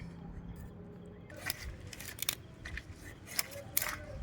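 A large rupchanda fish is cut before cooking, heard as quiet, close, irregular crisp snips and crunchy cutting strokes, several sharp bursts after a brief near-silent start.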